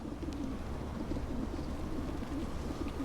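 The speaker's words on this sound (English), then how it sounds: "Hi, pigeons." Pigeons coo in a city street in Vampire: the Masquerade - Bloodlines 2, soft repeated warbling calls rising and falling over low ambient game noise, moderately close and steady throughout.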